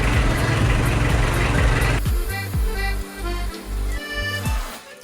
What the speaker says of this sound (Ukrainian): Все, працює наш мотор.